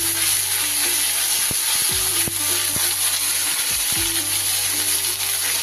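Ginger paste and turmeric fry in a pan for a bottle gourd and hilsa fish head dish, with a constant loud sizzling hiss and a few faint tonal hums and clicks underneath.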